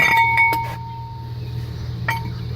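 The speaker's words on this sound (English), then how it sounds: "Put the rotor on." A metal brake rotor on a 2011 VW Routan goes onto the wheel hub with a bright clink and a ringing metallic tone that fades, then a second lighter clink, close by over a low background hum.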